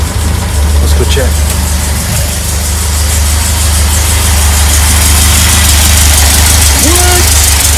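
A restored 1965 VW Beetle engine idles loud and close, a steady low rumble with a fast, even pulse throughout, while people talk faintly over it.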